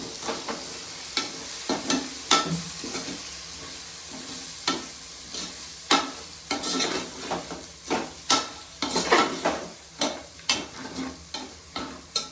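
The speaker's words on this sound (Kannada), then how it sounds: "ಸೊ ಇವಾಗ ಒಂದ್ಸಲಿ ನಾವು ಚೆನ್ನಾಗಿ ಮಿಕ್ಸ್ ಮಾಡ್ಕೊಬಿಡೋಣ" A spoon scraping and knocking steadily against a pan while coriander powder is stirred into biryani masala, with regular strokes over a low sizzle, close up, and no talking.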